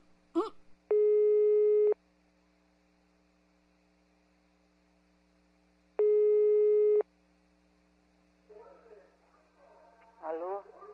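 Telephone line tone during a prank call: two long, steady ringback tones about five seconds apart over a faint hum, then a voice answering near the end.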